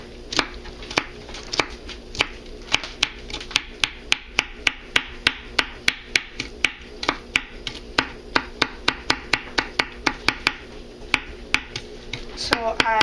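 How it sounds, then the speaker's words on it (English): Knife finely chopping Italian parsley on a cutting board, a long run of crisp, close, evenly paced taps, speeding up toward the end. "So I have finely chopped my Italian parsley."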